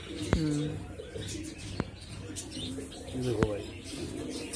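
Pigeons at a bird sale in Delhi give a few low, throaty coos, each brief and set apart, while people talk nearby over light background noise.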